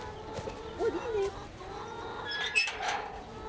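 Hens cluck softly around a coop at feeding time, scattered short calls and faint squawks coming from near and far over a low outdoor background.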